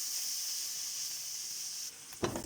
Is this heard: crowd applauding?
no